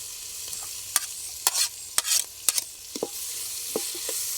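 Ponaganti greens curry is stirred in a hot pan, soft steady sizzling with repeated scraping strokes of a spoon against the pan, close and fairly quiet, no talking.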